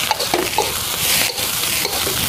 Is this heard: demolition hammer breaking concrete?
no